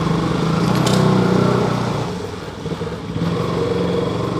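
A KTM motorcycle rides into a parking lot at a service centre in Surat, its engine droning loudly and close, easing off briefly mid-way before picking up again.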